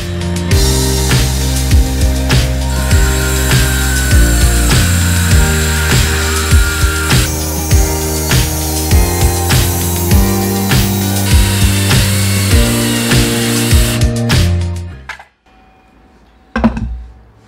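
A Bosch power saw grinds steadily through a thick steel chain, a loud continuous buzzing drone with fluctuating pitch that runs for about fourteen seconds, then cuts off, followed by a brief clatter.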